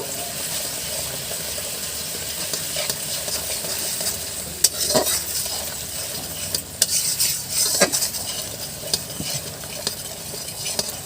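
Metal spatula scrapes and clinks against a frying pan while turmeric and spices sizzle underneath, with irregular sharp knocks as the contents are stirred.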